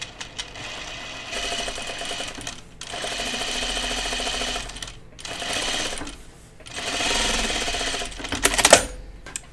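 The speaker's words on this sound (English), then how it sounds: "I'm just going to put a running stitch about 1/4 of an inch along this edge" A sewing machine stitches a running stitch about a quarter inch along a fabric edge, whirring in three steady runs of rapid mechanical clatter separated by short pauses, close and loud, ending with a small click.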